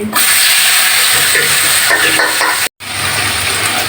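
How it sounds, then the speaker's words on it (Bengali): Cut potatoes hit hot oil with cumin seeds and fry in a loud, close, steady sizzle, broken by one brief silent gap near the end before the hiss resumes. "এবার কেটে রাখা আলুগুলো দিয়ে দিচ্ছি"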